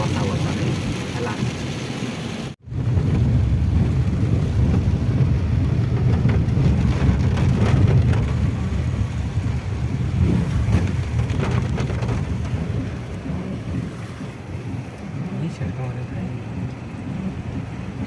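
Heavy rain pours down in a steady, dense hiss lasting the whole stretch after a brief drop near the start, loud and close.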